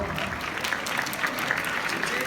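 An audience claps at a university freshman orientation performance event: brief, continuous applause with a murmur of voices underneath, evenly loud throughout.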